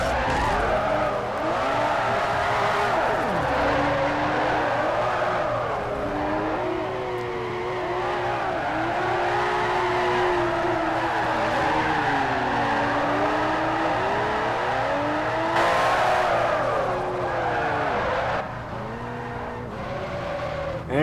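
Rear- and all-wheel-drive cars drifting in Forza 4 around Fujimi, with engines revving continuously and tires squealing in long, wavering skids, loud and sustained throughout.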